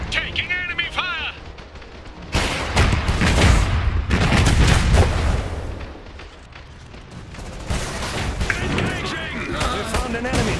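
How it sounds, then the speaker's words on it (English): Battle gunfire and booming artillery in the real-time strategy game Iron Harvest, with dense volleys and blasts in a 2 vs 2 multiplayer match, mixed with unit voice lines and game sounds. "Incoming enemy fire."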